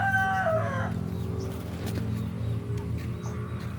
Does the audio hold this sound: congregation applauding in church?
no